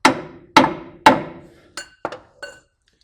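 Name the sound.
light hammer taps on a Toyota Tundra strut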